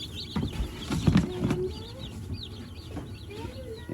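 Baby chicks huddle under a heat lamp in a brooder box made from a tote, peeping in many high, repeated chirps, with someone speaking over them.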